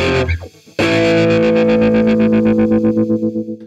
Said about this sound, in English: every time he hits the A, there's this massive tremolo on it